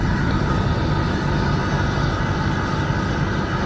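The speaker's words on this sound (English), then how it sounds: "I feel good pressure coming out of that exhaust." Exhaust from the tailpipe of a Ford 6.0 Power Stroke diesel truck idling, a steady, close, loud low rumble with a dense chugging texture, continuous throughout.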